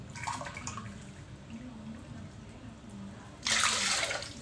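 Warm water pours briefly into bread dough in a bright splashing rush near the end, after quiet kitchen handling sounds and faint background hum.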